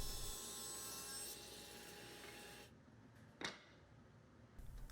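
A power saw rips 4/4 cherry boards into narrow pieces with a steady grinding whine that cuts off abruptly, followed by a brief scrape and quieter workshop noise, fairly faint overall.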